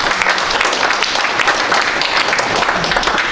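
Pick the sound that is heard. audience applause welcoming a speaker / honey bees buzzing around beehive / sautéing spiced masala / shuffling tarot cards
audience applause welcoming a speaker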